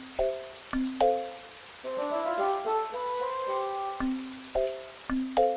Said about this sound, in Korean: 비가 오고 있네요.